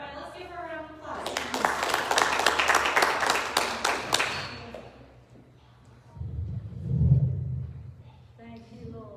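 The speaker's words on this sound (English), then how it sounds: "let's give her a round of applause" Applause from a church congregation, a burst of many hands clapping that builds quickly and holds for several seconds before fading, after which a voice begins speaking over a low hum.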